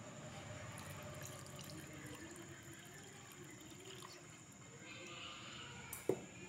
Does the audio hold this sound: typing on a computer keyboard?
no